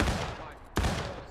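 Rifle volleys crack out in a Civil War battle in War of Rights, a dense rattle of distant shots with one sharp nearby report near the middle, under a steady din of battlefield noise.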